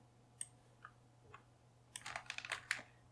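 A computer keyboard is tapped with a few scattered keystrokes, then a quick burst of rapid clicking typing, quiet and close over a faint electrical hum, with no talking.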